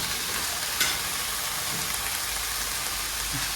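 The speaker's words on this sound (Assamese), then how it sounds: "ফাইনেলি আমি দি দিলোঁ কেৰাহীত ৰঙালাওৰ আগ" Pumpkin shoots frying in a kadai, a loud steady sizzle and crackle throughout with a few soft stirring scrapes, close up and alone.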